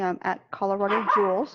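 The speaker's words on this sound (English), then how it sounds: "and that's my dog at the office." A dog barks in an office, sounding in short bursts that are mixed with and partly under a man's speech.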